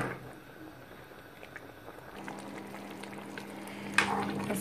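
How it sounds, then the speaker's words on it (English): Yoruba egusi soup simmers in a pot after being stirred, a faint, steady bubbling with a soft clink near the end and no voices. "I'm going to stir and then leave to simmer for about"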